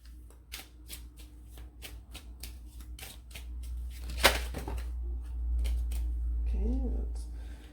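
Tarot cards being shuffled, a run of crisp riffling flicks and soft card slaps close by, with one louder burst midway and a low steady hum underneath.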